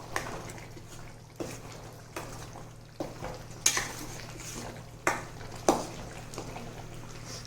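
A spoon stirs tuver totha, a pigeon pea curry, in a pot. Quiet, rhythmic scrapes and clinks against the pot come about once a second over a low, faint bubbling background.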